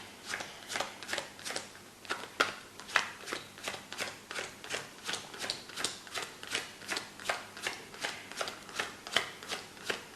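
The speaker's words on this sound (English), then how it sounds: "take hold of the cards as spectator number 1. Yes. And deal face down to your number." Playing cards dealt face down one after another onto a table, a steady run of crisp, close flicking snaps at a brisk, even rhythm, roughly twenty in a row with no talk.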